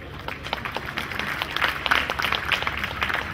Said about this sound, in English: No voices, only enthusiastic clapping, please.